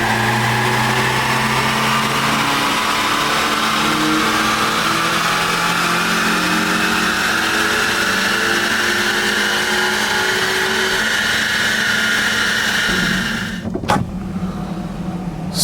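A modified BMW E46 318i four-cylinder revs loudly and steadily toward its 7,000 RPM redline, the engine note climbing continuously for about thirteen seconds before cutting off abruptly, then a brief quieter idle.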